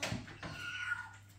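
A person imitates a cat, giving a short, quiet, drawn-out meow that rises and then fades.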